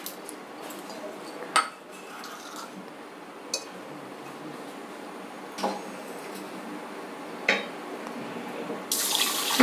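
Water is poured into a bowl of rice, giving a steady running-water sound with a few sharp clinks against the vessel, close and fairly quiet.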